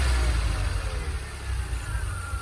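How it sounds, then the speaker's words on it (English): A DeLorean engine with a rough idle fault runs as throttle is slowly applied, a steady low rumble with a slight rise in pitch, close and continuous for a couple of seconds. "So watch what happens when I gradually give it throttle."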